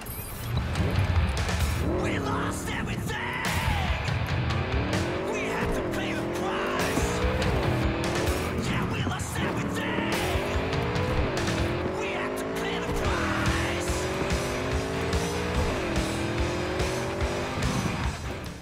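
Car driving in Cyberpunk 2077, the engine repeatedly revving up through gears with rising and dropping pitch, tires squealing and occasional impacts, loud and continuous throughout.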